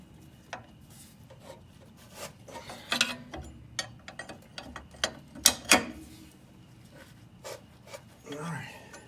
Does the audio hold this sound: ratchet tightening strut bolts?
yes